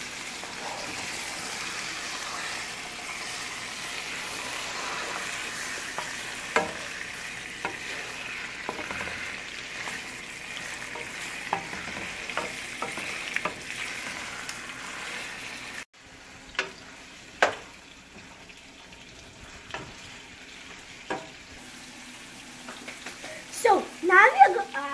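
Ginger garlic paste fries in a pan for biryani, a continuous close sizzle with spatula scrapes and taps as it is stirred, the hiss dropping partway and then sharper stirring clatters; a voice talks over it.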